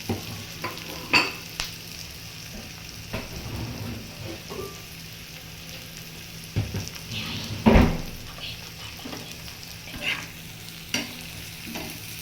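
Spiny gourd frying in a pan with onion and turmeric gives a steady low sizzle, broken by intermittent scraping and clanking strokes of a spatula stirring it, with one louder knock midway and no speech.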